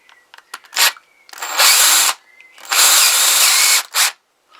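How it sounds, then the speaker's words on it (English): A power drill runs in short bursts into a Kawasaki GPZ500S motorcycle engine: a few quick blips, then two long whirring runs and a final brief spurt, loud and close. "this is a really sharp drill"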